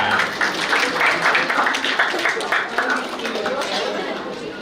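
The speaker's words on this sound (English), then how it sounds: "Again, ladies and gentlemen, a round of applause for our CE Jazz Band." An audience gives a round of applause for a jazz band at a lecture event, a steady wash of clapping mixed with crowd chatter that slowly thins over a few seconds.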